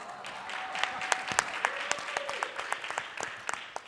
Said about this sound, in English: give Congressman Cline just a little extra applause